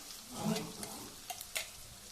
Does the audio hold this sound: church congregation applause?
no